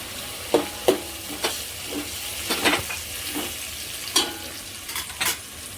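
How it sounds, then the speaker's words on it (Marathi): Spice mixture with ginger-garlic paste stirred in a pan for egg biryani, repeated scraping strokes of a spoon over a low constant sizzle, close and moderately loud. "एक मोठ्या चमचा भरून टाकली मस्त हलवून घ्यायचे असं"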